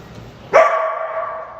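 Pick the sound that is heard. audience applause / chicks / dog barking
dog barking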